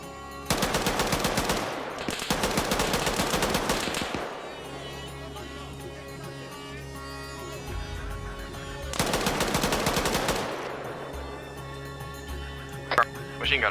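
Bursts of automatic machine-gun fire in Arma 3, two long rattling volleys a few seconds apart with scattered single shots between them, loud and close, while someone talks over the action.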